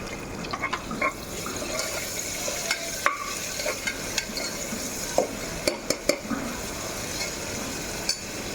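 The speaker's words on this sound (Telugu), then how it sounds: "ఇప్పుడు కొత్తిమీర పుదీనా వేసుకుంటాం." Fresh coriander and mint going into a pot of taro root curry, followed by stirring: a soft simmering sizzle with frequent light clinks and scrapes of a spoon against the pot, close and steady with no talking.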